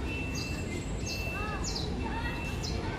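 Birds calling at Manila Zoo, several short chirps and whistled notes spaced irregularly over a constant background hum of the outdoor setting.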